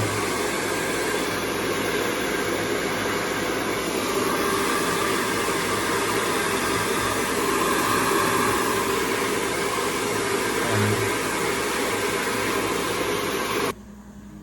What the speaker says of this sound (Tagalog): Yung blower naman.